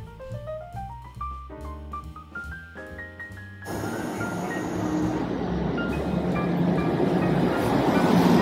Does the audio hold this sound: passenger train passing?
yes